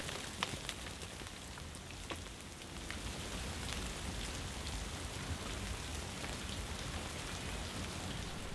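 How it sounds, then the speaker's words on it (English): Snow melting on the Porcupine Hills drips steadily all around, making a faint, even patter like light rain, with scattered closer drops. "it was melting really quickly. Sounded like a rainstorm up there."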